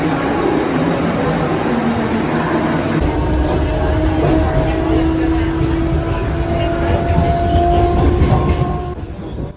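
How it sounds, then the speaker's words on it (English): A train runs on rails as it approaches Thane railway station, a loud, steady rumble with rhythmic wheel clatter and squealing tones throughout, easing slightly toward the end. "As my train is about to reach Thane railway station"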